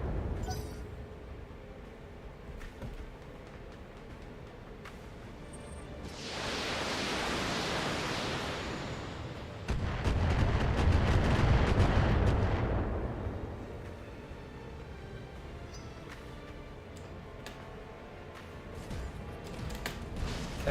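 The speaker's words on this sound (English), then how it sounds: "that's more firepower either from artillery or turrets" Heavy artillery and turret fire in the mech game Battletech, heard as long rumbling blasts that swell and fade over a quiet, noisy backdrop, with no talk.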